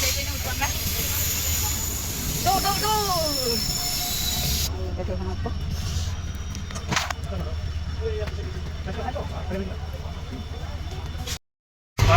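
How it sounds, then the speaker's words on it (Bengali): A delayed train pulls into a station in Assam with a long rumble, squealing wheels and a rising horn-like tone early on, fading into quieter rolling noise, while voices talk over it before a short cutout. "এই যে দেখা যাচ্ছে দেখো এই যে আসছে ট্রেন"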